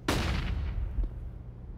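A single sharp gunshot cracks out during a mid fight on Mirage in Counter-Strike, followed by a fading boomy tail and a fainter second report.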